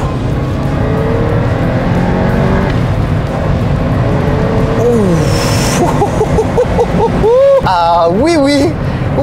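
A Porsche 944 turbo accelerating, its engine note rising and falling through the revs with a loud, close drone, while someone talks over it and tire or whistle-like squeals chirp toward the end.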